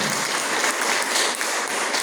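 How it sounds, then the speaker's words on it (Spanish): A congregation applauds the Lord during a night church service held under a tall outdoor shed, a dense, steady wash of clapping that holds evenly for about two seconds with no talking. "¿Cómo no le damos un aplauso al Señor en esta noche?"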